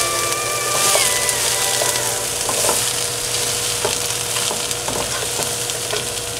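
Pork chops seasoned with salt and black pepper are stirred around in a hot pan off the heat, giving a steady loud sizzle broken by scraping utensil strokes close by, with no voices.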